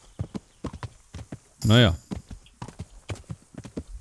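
Steady clip-clop of horse hooves while riding in the medieval game Kingdom Come: Deliverance, an even trotting rhythm of close, crisp hoof strikes, interrupted by a short synthetic level-up chime midway, with someone speaking briefly.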